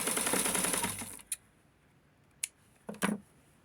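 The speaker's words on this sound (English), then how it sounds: "I'm only going to sew it up until the tip here." A sewing machine runs steadily while stitching a shirt collar for a little over a second, then stops, followed by a few faint clicks and taps in the quiet afterward.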